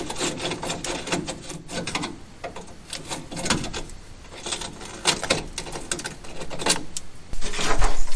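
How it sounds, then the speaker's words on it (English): A Phillips head screw being worked out of a Chevy Nova dash, close scraping and ratcheting clicks of the screwdriver in uneven bursts with rubbing and handling noise, fairly loud and without talk. "Go ahead and get our little Phillips head screw out if it doesn't strip out and break."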